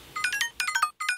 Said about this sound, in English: A little bell sound